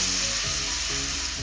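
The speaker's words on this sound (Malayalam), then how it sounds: "ഇതേ നെയ്യിലേക്ക് നമ്മൾ കട്ട് ചെയ്ത് വെച്ചിട്ടുള്ള മാങ്ങയാണ് ചേർക്കുന്നത്." Cut ripe mango pieces fry in ghee for mango payasam, giving a loud, close, steady sizzle with faint stirring movement and no voices.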